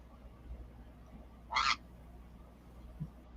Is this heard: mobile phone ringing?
no